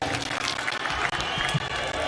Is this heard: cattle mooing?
no